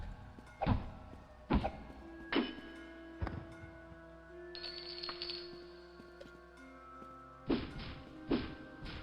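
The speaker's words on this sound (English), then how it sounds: "I know someone's on the other side. I can hear them smashing." Enemies smashing behind a door in the Daggerfall video game: loud, heavy thuds and crashes in irregular bursts, several early blows, a quieter stretch with a high ringing tone, then two more hard hits near the end.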